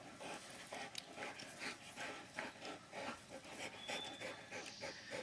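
A dog pants rapidly during play, a quick, rhythmic run of breathy huffs that sounds close but quiet and continues steadily without any talk.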